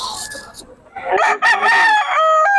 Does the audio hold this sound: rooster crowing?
yes